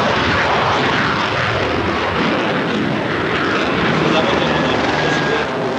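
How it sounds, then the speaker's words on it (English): A new Airbus A340 airliner flies at the Berlin Air Show, a loud, continuous broadband engine roar that stays steady throughout. "It's the Berlin Air Show, and the high flyer this year is the new Airbus A340."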